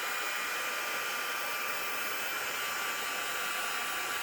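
Steady, even blowing hiss of a craft heat tool used to heat-set embossed or stamped card pieces, running close and unbroken throughout with no talking.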